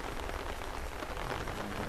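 Steady, dense rain hiss from the dynamic weather system of the video game Outside, a continuous broadband wash with no pauses, moderately loud and heard alone without any voices.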